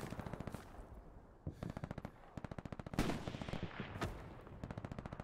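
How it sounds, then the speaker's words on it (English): Machine gun fire in the Hell Let Loose war game, sounding as rapid rhythmic bursts of close automatic shots broken by short pauses, with heavier single blasts mixed in. "Careful, there's a machine gunner up this road."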